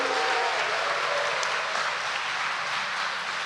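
A church congregation at an Easter Vigil Mass claps in a steady, dense burst of applause that holds at an even level for about three and a half seconds, with no voices over it.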